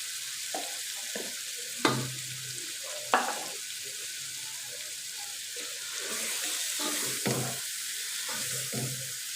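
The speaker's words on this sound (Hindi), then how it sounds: "अब इसमें चिकन ऐड करूँगी और इसको अच्छी तरह से भूनेंगे" Chicken is sautéed and stirred in a pan for kaddu gosht, a soft sizzle under sharp spoon scrapes and clanks at irregular intervals, no talking.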